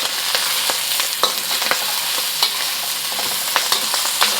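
Ground pork fries and crisps in a hot pan for Beijing fried sauce noodles, a steady close sizzle broken by scattered pops and scraping stirs, with no voices.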